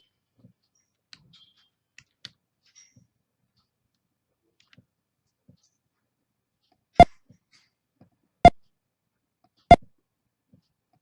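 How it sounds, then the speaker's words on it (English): Three sharp, isolated clicks sound about a second apart in near silence, preceded by a few much fainter ticks. "I will do a left mouse click for a straight line"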